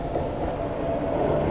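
Bangalore–Danapur Sanghamitra Express overtaking alongside, a steady close rumble of rolling wagons with broadband rail noise holding level throughout, no voices.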